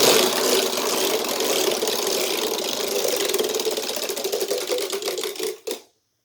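A homemade Wheel of Fortune model wheel spins with a fast, steady clicking rattle as its flapper strikes the pegs, the ticks gradually slowing before a last few clicks and an abrupt stop into silence.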